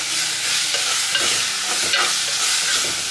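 Tomato, tamarind and coriander being stirred into coconut-milk rasam, a continuous close hissing simmer with faint scraping of the spoon throughout.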